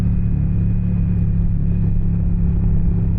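Steady, loud engine drone and wind rumble from a motorcycle cruising on a long-distance highway trip, a constant low hum with no breaks or talk.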